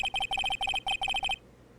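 A mobile phone ringtone from Phoenix Wright: Ace Attorney plays a bright, repeating electronic melody in quick groups of beeps, clear and close, then cuts off, leaving near silence.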